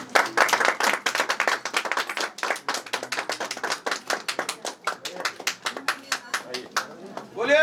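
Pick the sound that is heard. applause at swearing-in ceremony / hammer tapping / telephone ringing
applause at swearing-in ceremony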